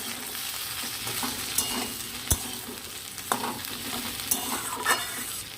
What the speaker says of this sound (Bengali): এবার সবজিগুলোকে আমি একটু নাড়তে থাকবো